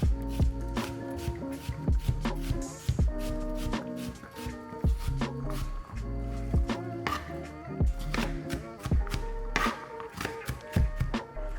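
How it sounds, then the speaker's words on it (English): A knife chops onions rapidly against a cutting board in uneven bursts of sharp, close knocks, pausing briefly between runs. "We're just, like I said, chopping up the onions."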